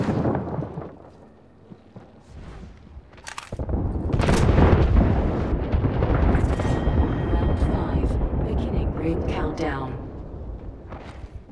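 Gunfire in Apex Legends gameplay, a loud burst of shots and booming impacts that swells to a dense, sustained roar, with a player's voice heard over it.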